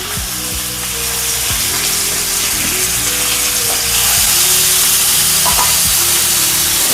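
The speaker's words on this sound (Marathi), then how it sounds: "मच्छी डायरेक्ट तव्यामध्ये" Fish sizzles directly on a hot tawa in oil, a continuous close hiss that grows slightly louder, broken by a few light clinks and scrapes of a utensil.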